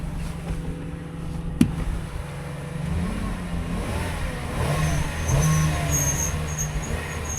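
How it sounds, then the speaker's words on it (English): A used car's engine idling steadily nearby with a faint whining accessory noise from a pulley, plus a single sharp clack early on, no voices. "A little accessory noise there, something on a pulley. But the motor sounds good."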